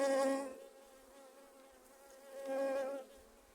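Honeybees buzz at an opened beehive in a spring apiary, a close, droning hum that swells loudly at the start and again near the end, with no talk.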